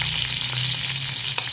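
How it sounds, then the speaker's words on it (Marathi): Green chillies fry in hot oil as a tempering for a home-style green chickpea curry, giving a loud, continuous close sizzle with a faint low hum beneath and no speech. "फोडणीसाठी गरम तेलात हिरव्या मिरच्या"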